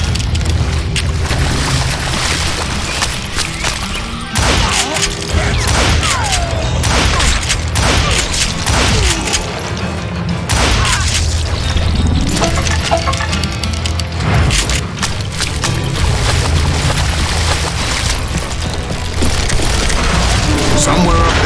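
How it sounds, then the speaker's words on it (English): Gunfire volley in Call of Juarez Gunslinger, loud booming and cracking shots raining down in bursts, with metallic clinks and a voice talking over parts of it. "a fusillade of bullets come raining down from on high"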